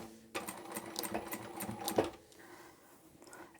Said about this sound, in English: So I'm going to start sewing here where I made my first mark with a back stitch.